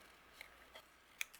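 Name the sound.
scissors fussy cutting paper florals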